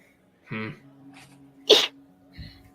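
One sharp sneeze bursts out after a short breathy intake, close and fairly loud, with faint rustling around it.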